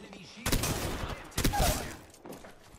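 Gunfire in the Apex Legends video game, two loud bursts of rapid shots about a second apart, followed by a quieter third burst.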